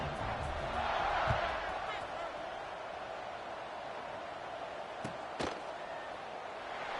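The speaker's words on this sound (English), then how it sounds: "this crowd is buzzing after that last score" A stadium crowd at a North Texas vs Tulane college football game keeps up a steady, broad, distant roar, with a commentator speaking over it and a couple of sharp knocks near the end.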